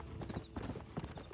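An ordinary horse in the video game Red Dead Redemption: Undead Nightmare trots with quick, steady clip-clop hoof beats, moderately close and alone without talk.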